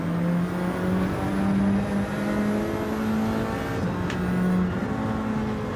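A GR4 race car in Gran Turismo 7 races against GR3 cars, its engine a steady, loud droning whine that rises and falls slightly in pitch through the gears.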